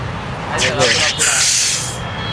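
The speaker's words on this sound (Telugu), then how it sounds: "సోడా బాగా ప్రెజర్ ఉంది" A sharp pressurized hiss of fizz bursts from an opened soda bottle in a couple of surges and fades after about a second and a half, with faint talk around it.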